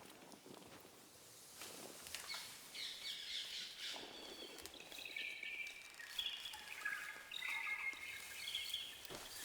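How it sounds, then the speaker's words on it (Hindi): Wild birds calling in the open, a series of chirps and squawks scattered over faint ambience with soft footsteps, fairly quiet and without talk. "वो पंछी जिनकी आवाज देश के बाकी हिस्सों में सुनाई नहीं देती।"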